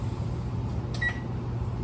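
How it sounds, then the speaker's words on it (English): A stove is switched on and set to bake at 350, giving a brief pair of faint electronic beeps against a low, steady kitchen hum. "So I'm going to turn the stove on to 350, start that, let that heat up"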